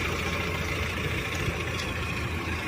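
A 2500 cc four-wheel-drive Mahindra jeep engine idles steadily, a constant low rumble and hiss that holds at an even level throughout with no voices.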